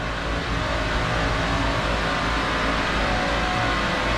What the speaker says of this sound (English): Another engine on that side.